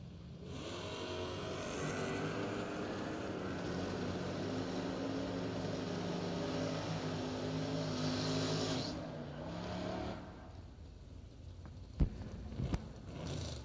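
Drag race cars, including a 1967 Chevy II, roar with a loud, sustained engine drone heard from a distance at a Labor Day drag racing event, fading after about nine seconds, followed by a couple of sharp knocks.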